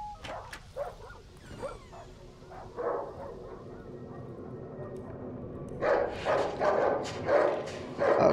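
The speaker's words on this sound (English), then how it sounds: "Okay, there's multiple dogs here." Several dogs barking in the game Darkwood, sharp scattered barks and yips early, a quieter lull, then a dense burst of overlapping barking near the end, moderately distant.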